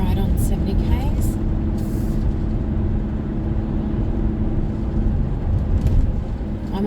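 A 2020 Great Wall Steed twin cab ute with a 2.4L petrol engine and five-speed manual cruises at 70 km/h, a steady low engine drone and road hum inside the cabin while someone talks.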